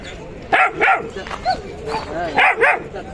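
Puppies yapping in short high barks and whines, a few separate yelps spread across the moment, with someone talking underneath.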